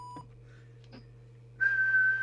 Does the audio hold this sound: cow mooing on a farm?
no